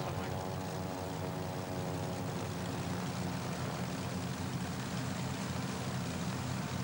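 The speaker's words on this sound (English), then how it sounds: "the New Zealand-built mid-70s model CT4 air trainer is a fine teaching plane" Steady, loud drone of a mid-1970s New Zealand-built CT4 Airtrainer propeller plane, its engine and airscrew humming continuously with strong harmonic tones throughout, close and unbroken, with no voices.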